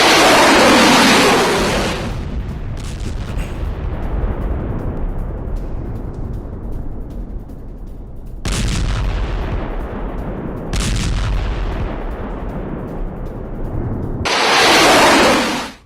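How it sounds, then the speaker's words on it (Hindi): Several heavy booming blasts from missile strikes, one at the start and others spaced through, each followed by a long rumbling decay, loud and close. "धमाके से थर्रा उठा है पूरा का पूरा इलाका।"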